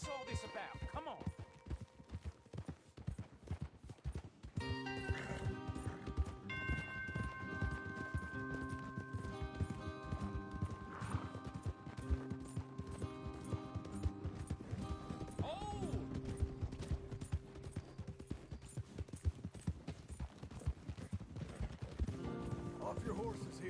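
Horses trot steadily in Red Dead Redemption 2, a continuous clip-clop of hooves under game music and character voices talking, moderately close throughout.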